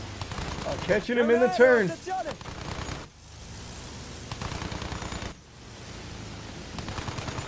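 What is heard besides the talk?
gunfire in a dogfight video game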